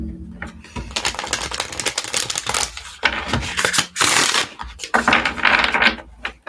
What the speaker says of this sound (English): Nice smooth shuffle in this deck.